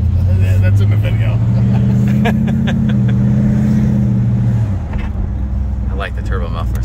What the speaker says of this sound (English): I like the turbo muffler sound.